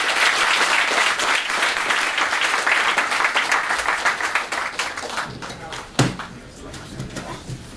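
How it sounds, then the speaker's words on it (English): Audience applause at a music industry panel event, a dense wash of clapping filling the room for several seconds before thinning out, with a sharp knock near the end. "Give him a round of applause."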